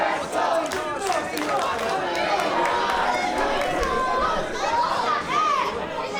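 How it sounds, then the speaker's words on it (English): Wrestling crowd chanting in an arena for a vegan wrestler, a loud rhythmic mass of voices with shouts and cheers rising and falling throughout. "Crowd chanting for veganism"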